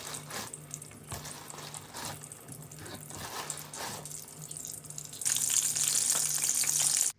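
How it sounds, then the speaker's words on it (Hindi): Lahori-style kofte sizzle in oil in a kadai, a soft continuous frying crackle that swells into a louder, brighter hiss near the end before cutting off. "और दूसरी तरफ मेरे कोफ्ते जो हैं वो फ्राई हो रहे हैं"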